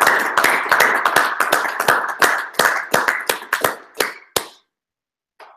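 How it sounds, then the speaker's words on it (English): A small group claps after a talk on GraphQL and Perl 6, a burst of sharp, fairly close hand claps in quick irregular rhythm that thins out and stops after about four seconds, followed by silence and one faint sound. "Should we clap?"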